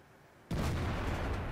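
A Tortoise tank's 120mm gun fires in World of Tanks: one sudden loud, deep boom that cuts in after a quiet moment and rolls on as a sustained heavy blast.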